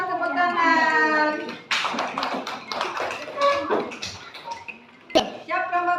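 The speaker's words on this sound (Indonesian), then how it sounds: "tepuk tangan." A group of children in a primary school classroom breaks into a burst of rapid, loud hand clapping lasting about three seconds, with an adult voice speaking just before and after.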